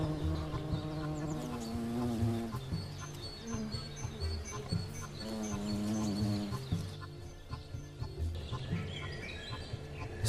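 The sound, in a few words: European hornets buzzing around ripe grapes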